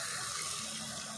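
Water pours steadily from a cup into chicken masala cooking in a pan, making a continuous, fairly loud rushing splash that lasts throughout without talk.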